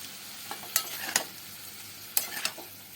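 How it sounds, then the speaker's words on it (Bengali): Cauliflower is stirred and sautéed with spices in a pan, a soft sizzle with a few scraping strokes of the spoon, close and quiet with no talking. "এবার আস্তে আস্তে ফুলকপির সঙ্গে মশলা খুব সুন্দর করে কষিয়ে নিতে হবে।"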